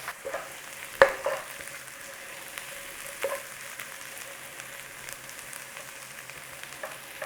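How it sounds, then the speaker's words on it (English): Onion and mushrooms caramelizing in a pan give a soft, low continuous sizzle, with a couple of sharp utensil clicks early on, then a quiet steady hiss. "Just caramelize those a little bit."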